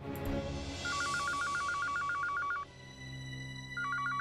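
An electronic telephone ring warbles in a rapid repeating trill for about two seconds, pauses, then starts again, heard faintly indoors.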